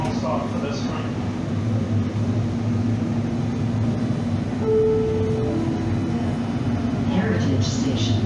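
A Canadian commuter train at Heritage Station makes a steady rumbling hum in the station while an announcement voice speaks over it, with a short tonal beep partway through.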